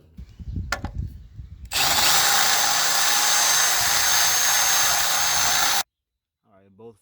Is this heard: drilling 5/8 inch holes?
yes